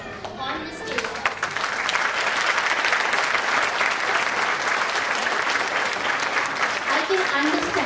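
An audience applauds at a school annual day celebration for grade 3 and 4 performers, loud sustained clapping rising quickly and holding steady throughout.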